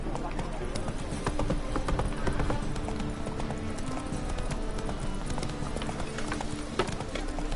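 Horse hooves clip-clop at a gallop in The Witcher 3, a steady rhythmic pounding under continuous game ambience, with a voice speaking briefly over it.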